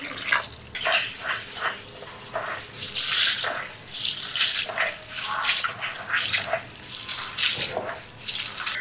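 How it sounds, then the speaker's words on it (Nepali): Rice is rinsed by hand in a bowl of water, with continuous close sloshing, swishing and splashing in uneven bursts and no talking. "यसलाई चाहिँ म पानी हालेर पखाल्छु अनि फेरि भिजाउन राख्छु।"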